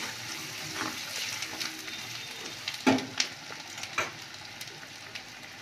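Onions and spices, including cumin paste, ginger-garlic paste, coriander and chili powder, frying in a pan for an egg omelette curry: a soft steady sizzle with a few louder crackles and stirring scrapes near the end, no talk.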